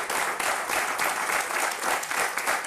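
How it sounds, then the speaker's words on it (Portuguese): A studio audience at a talk show claps steadily, a dense, even wash of applause at close range that carries on for the whole moment. "Salve de palmas."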